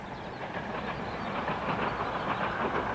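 A train on the Esk Valley railway line between Whitby and Middlesbrough rumbles steadily along the track, with a continuous rolling drone and faint rhythmic wheel clatter.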